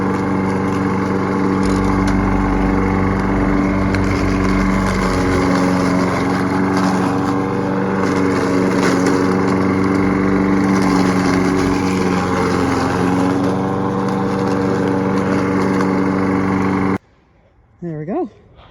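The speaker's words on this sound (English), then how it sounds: "Sorry, I didn't talk while I was mowing." A lawnmower runs close by while mowing autumn leaves in a garden, a loud, steady droning hum that continues for most of the stretch and then cuts out suddenly near the end.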